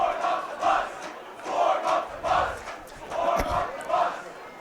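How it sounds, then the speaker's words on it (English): Crowd noise at a high school football game between Van College and Mt. Douglas as the clock runs out, a continuous roar of many voices swelling and fading in waves, with shouts rising above the cheering. "we'll just let the crowd noise soak over you here as the clock ticks down to 0"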